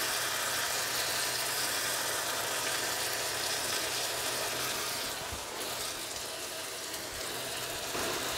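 Spiral potato fries frying in generous oil on a cast iron duck-roaster lid, a dense steady sizzle and crackle that fills the whole span, with a brief shift midway.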